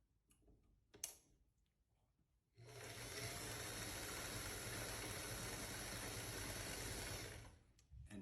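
A sewing machine stitches a pattern on cloth, starting after a few quiet clicks and running in a fast, steady mechanical whir for about five seconds before stopping.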